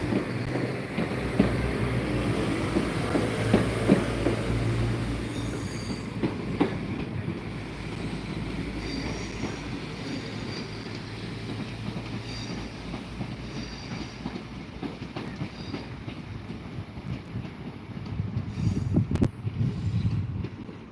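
A train departs Lanyon Place station in Belfast bound for Grand Central, a steady low rumble and diesel drone with light clatter, swelling louder toward the end.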